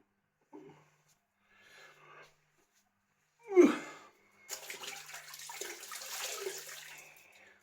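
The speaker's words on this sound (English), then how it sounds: "Just going to rinse it off with a flannel." Water splashes as a face is rinsed with a flannel after shaving, with a few faint drips, one brief louder splash and then a soft, continuous sloshing near the end.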